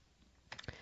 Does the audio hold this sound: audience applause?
no